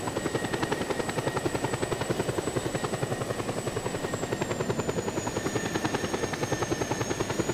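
A helicopter's rotor thumps in a rapid steady rhythm under a constant high engine whine, loud and continuous throughout, in the video game Just Cause 2.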